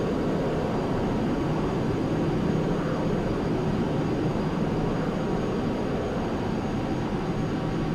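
Jet airliner engines roar steadily and loudly through a takeoff roll in the FSX flight simulator, a continuous broad rumble that stays even from start to finish.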